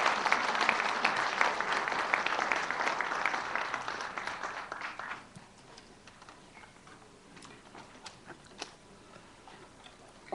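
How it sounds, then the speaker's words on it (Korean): Audience applause at a Kwanhun Club presidential candidate debate, dense clapping from a seated crowd that fades after about five seconds into a few scattered claps. "여러분, 정 후보에게 많은 박수 부탁드립니다."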